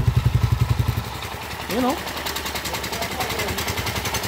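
Motorcycle engine with a loose screw rattles in a steady, fast rhythmic pulse, loud and close. Someone briefly talks over the running engine partway through.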